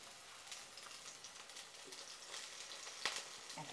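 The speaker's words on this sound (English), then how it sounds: "Pan frying stuff." Food pan frying in a small home kitchen while making a tomato and eggplant casserole, a faint continuous crackling sizzle with one brief sharper pop, no voices.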